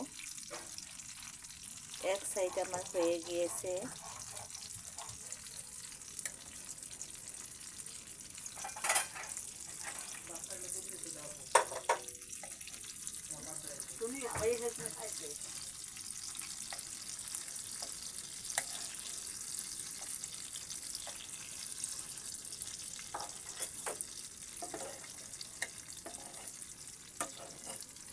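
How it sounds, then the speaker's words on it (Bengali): Shrimp frying in a pan on a low gas flame, a steady soft sizzle running throughout with occasional stirring and utensil clinks, while someone talks over it. "চিংড়ি মাছগুলোকে এবার আমি উল্টে দেব।"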